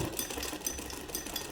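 A sewing machine stitching a belted shalwar in a beginner tailoring lesson gives a brief, soft whirring run of needle strokes, quiet and close.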